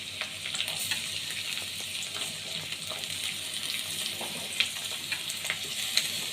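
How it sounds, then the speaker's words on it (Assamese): Finely chopped onions fry in a pan for Gobi Manchurian, giving a steady, dense hiss and sizzle with faint scraping stirs throughout, close and continuous with no talking. "এয়া মই কাটা পিঁয়াজ দিছোঁ, সৰু সৰুকৈ কাটি লৈছোঁ।"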